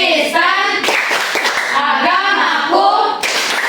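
A group of children plays the Tepuk Kristen clapping game in a Christian religious education class. Their voices chant in unison while sharp hand claps punctuate the rhythm, close and loud.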